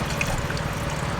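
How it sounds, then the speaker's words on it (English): Water trickles and splashes as it is poured into a car's windshield washer reservoir at a roadside restaurant stop, a brief, steady close-up pour with liquid gurgling throughout and no talking. "I'm filling some water for the wiper"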